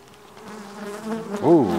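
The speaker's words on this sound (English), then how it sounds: "a lot of bees just hit me in the face there" Dense buzzing of many honeybees close by at an open hive, rising in loudness and pitch wavering as insects swirl near.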